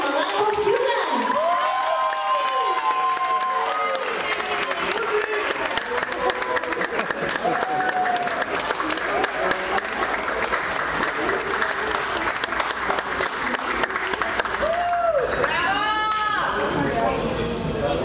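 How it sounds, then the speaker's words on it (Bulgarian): An audience applauds dance students at a kizomba show, steady dense clapping sustained throughout, with scattered cheers and whoops rising over it and a voice briefly audible within the crowd. "Нека ги аплодираме силно, с любов и подкрепа, за да летят по сцената."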